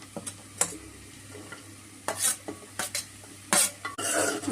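Pieces of bottle gourd are stirred in a frying pan with a spoon, giving scraping knocks and bursts of sizzle over a low steady hiss, close and alone.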